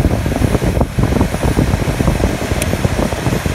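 Heater blower fan on a Vauxhall Corsa D, running steadily with a loud, even whooshing hum throughout, close to the microphone, no talking.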